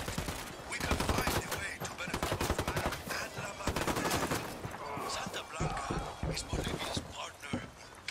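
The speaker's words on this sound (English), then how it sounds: "I'm opening fire on these shitheads" Rapid bursts of automatic gunfire and scattered shots in Ghost Recon Wildlands on PS4 Pro, dense and loud, mixed with shouted game dialogue and hurried movement.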